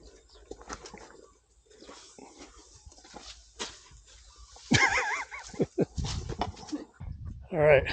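Dogs bark and whimper near a rice field while people talk over them, with scattered sharper barks and yelps growing louder toward the end amid background bird sounds.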